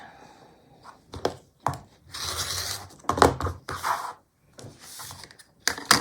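Quilt fabric strips are trimmed for a scrappy log cabin block, with a run of close, uneven cutting and rustling sounds, some sharp and clicky, others longer and scraping, separated by short pauses.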